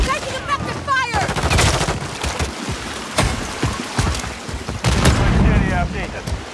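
Rapid bursts of gunfire and heavy explosions from the video game Call of Duty Modern Warfare 3 rattle continuously through the clip, loud and dense, with in-game radio voices calling out over the combat.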